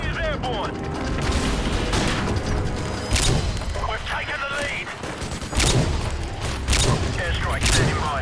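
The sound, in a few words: gunfire in Call of Duty Modern Warfare 2 video game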